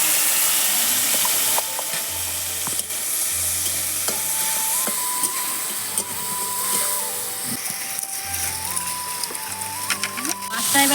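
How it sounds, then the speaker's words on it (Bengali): Prawns frying in oil in a wok (kadai), seasoned with salt and turmeric, give a steady loud sizzle and crackle for the whole stretch, with pan and utensil clatter and low tonal kitchen noise mixed in. "মাছটা এবার ভাজা হয়ে গেছে,"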